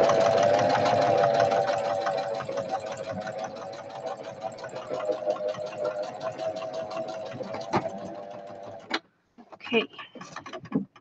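A sewing machine runs steadily, stitching fabric for a handy pocket book, a close, continuous mechanical whir with fast rhythmic needle ticks for about nine seconds before stopping, followed by brief handling clatter.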